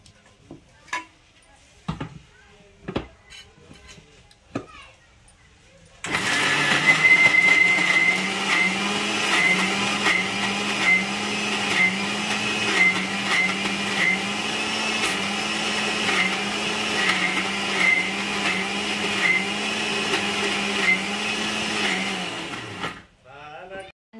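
A mixer grinder grinds tamarind chutney with new jars, a loud steady motor whine running for about seventeen seconds and then winding down. A few faint knocks come before it starts.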